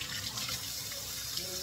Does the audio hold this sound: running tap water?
yes